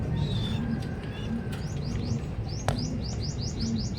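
Newly hatched pigeon squabs give a run of high, repeated chirps, rising in quick short notes near the middle of the clip, over a steady low background hum.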